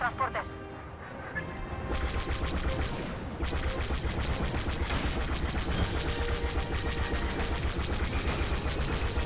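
Rapid bursts of gunfire and crashing impacts in a busy Star Wars Battlefront 2 battle, repeated rattling blaster shots and explosions continuing throughout, with Spanish voices underneath.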